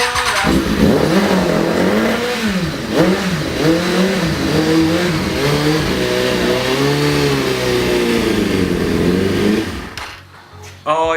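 Kawasaki ZX600-J motorcycle engine running after a service startup, revving up and down in repeated swells, loud and near, then dropping off near the end.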